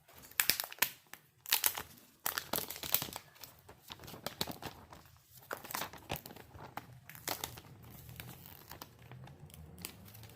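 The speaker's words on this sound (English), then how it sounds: "let's remove the plastic from this one" Protective plastic film is peeled and crinkled off a new Mi 10 Lite 5G smartphone, giving irregular close crackling and rustling bursts that fade to softer handling noises.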